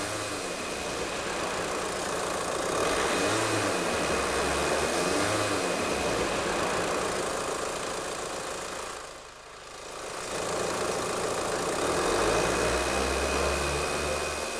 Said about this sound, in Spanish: Con el motor en marcha